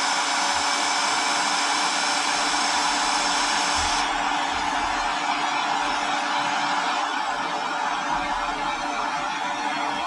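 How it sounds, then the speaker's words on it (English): A heat gun blows steadily while shrinking heat shrink tubing over the braided sleeve of a handmade pure silver USB cable, a continuous airy roar that holds close and loud with no pauses or talk. "So we'll hold our piece of heat shrink up there and just start shrinking it down."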